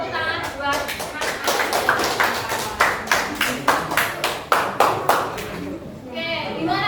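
A group claps for a student in a Grade 7 informatics classroom, with uneven, sharp hand claps that grow into a quick rhythmic burst before stopping. Children's voices murmur underneath.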